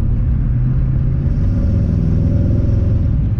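A car with low 273 rear gears accelerates at highway speed, giving a loud, constant low engine rumble and road drone heard from inside the cabin, steady throughout without talk.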